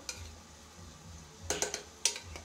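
Boiled peas and potato are smashed with a masher in a pot, producing a few soft squelching thumps and sharper metallic clinks in uneven bursts against quiet background, no talking.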